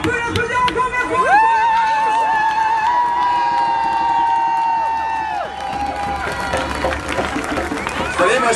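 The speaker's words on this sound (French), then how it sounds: "On peut l'applaudir encore bien fort." Crowd clapping and cheering at a street gathering, with a sustained swell of voices and whistles and tonal shouts over the din, then renewed scattered applause near the end.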